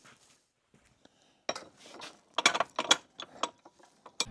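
Rusty threads on a Polaris RXL front suspension part are chased with a tool, producing a sequence of close, sharp metallic clicks and ratcheting scrapes in irregular bursts, quiet between strokes.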